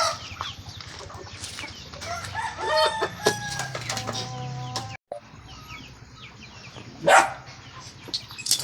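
Roosters crow loudly and native Visayan chickens cluck nearby on a farm in the Philippines, with a dog barking among outdoor background noise.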